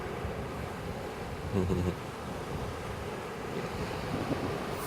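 Ocean surf washes steadily against the shore at an outdoor wedding, a soft continuous roar with some wind noise, faint and distant.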